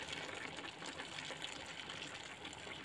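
Hot water poured into a sukiyaki pot, a steady gushing splash that runs close and fairly loud, unbroken, with no talk over it.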